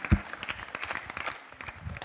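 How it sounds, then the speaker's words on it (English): Audience at a council meeting applauding, a short burst of scattered clapping from a modest crowd, fairly close and moderately loud. "Big round of applause, guys."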